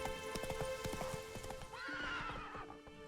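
Roach, a horse in The Witcher 3 video game, gallops with rapid, steady clip-clop hoofbeats up close, then lets out a loud neigh near the end.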